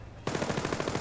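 A sudden rapid burst of automatic gunfire in the stealth video game Splinter Cell Blacklist, loud and close, with shots rattling evenly for under a second after a brief quiet start.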